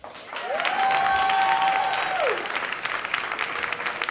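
An audience claps during a countdown of top picks, a dense burst of applause with a sustained tone sliding through it early on, then thinner scattered clapping trailing off.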